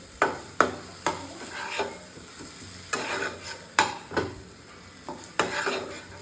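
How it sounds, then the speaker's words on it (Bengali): Spice paste with turmeric powder and green chili paste is stir-fried in a pan for a chicken and soya chunk curry, with repeated scraping strokes of a spoon against the pan over a faint sizzle, close and rhythmic. "এর মধ্যে আমি দিয়ে দেবো হলুদ গুঁড়ো। দিয়ে ভালোভাবে মশলাটাকে কষিয়ে নেব।"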